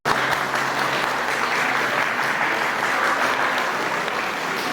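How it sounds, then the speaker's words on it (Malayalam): An audience in a hall applauds steadily to welcome a speaker onto the stage, with dense, loud clapping that holds level throughout. "ഒരു ബിഗ് ക്ലാപ്പ് കൊടുക്കൂ."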